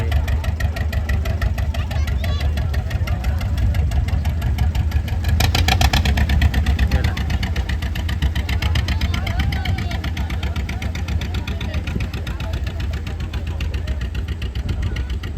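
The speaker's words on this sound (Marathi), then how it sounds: "बोटला बघा चालू केलं आहे" A mid-pitched motorboat engine chugs steadily and loudly throughout on a river, a constant motor drone with a brief louder swell partway.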